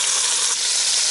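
Birria meat chunks browning in a hot pan, a close, steady, bright sizzle that holds evenly for about a second with no voices.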